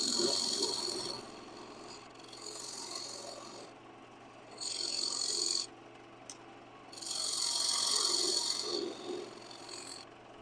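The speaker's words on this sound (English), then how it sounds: "Get my half-inch skew in there" A half-inch skew chisel cuts a frozen wood bowl spinning on a lathe, giving repeated bursts of soft, hissing rasp a second or two long, separated by quieter gaps, all fairly faint and close.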